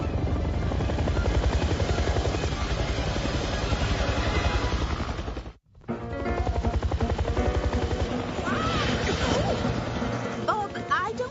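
A cartoon helicopter's rotor chops in a fast steady throb, loud and continuous apart from a brief cut midway, with voices talking over it and scattered sound effects near the end.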